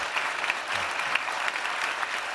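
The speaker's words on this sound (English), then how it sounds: "please, a round of applause for our guest" An audience applauds NRA president David Keene as guest speaker at a televised gun control talk: steady, even clapping from a sizable crowd, moderately distant and continuous for a couple of seconds with no voices over it.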